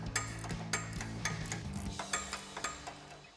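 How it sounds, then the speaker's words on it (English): An 18mm ratcheting wrench loosening a nut on a Jeep Gladiator JT suspension stud, giving a steady run of close, crisp mechanical clicks in even rhythm, with a low hum beneath. "We're going to take our 18mm ratcheting wrench, slide that onto our nut"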